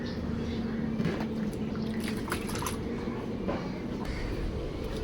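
Hands being washed under running water, a steady wash of splashing and trickling that runs through the whole stretch, with a voice speaking faintly in the background.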